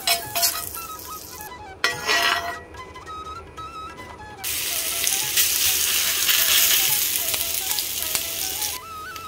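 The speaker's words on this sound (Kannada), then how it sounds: "ಮೊದಲಿಗೆ ತವಕ್ಕೆ ಸ್ವಲ್ಪ ಬೆಣ್ಣೆ ಹಾಕ್ಕೊಳ್ತೇನೆ." Butter hitting a hot tawa for sickle senna roti, a bright hiss that swells into steady loud sizzling, with a few clinks of utensils against the pan.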